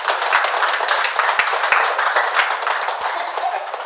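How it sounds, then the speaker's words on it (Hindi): An audience claps during a Hindi weight-loss talk, a dense continuous patter of many hands with a few sharper claps standing out, moderately loud throughout. "ताली बजाओ उनके लिए"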